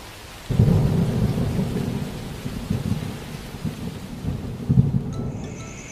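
Animated thunderstorm with heavy rain: a steady rush of rain close by, with deep thunder rumbles swelling and rolling through, heaviest near the start and again toward the end, no voices.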